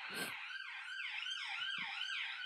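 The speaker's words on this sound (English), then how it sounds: "Yep, streaming past, it's ambulance." An ambulance siren wails in repeating rising and falling sweeps as it passes along a busy road, loud and close, with a brief honk and traffic thumps underneath and no talking.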